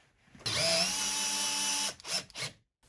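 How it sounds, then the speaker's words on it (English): A power drill tapping threaded holes in metal plates whines steadily at high pitch for over a second, then gives a couple of short, quick bursts, close and clear. "rotating my way through all of the holes that I was trying to tap"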